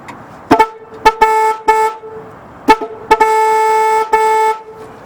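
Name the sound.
car horns on a 1964 Ford sounding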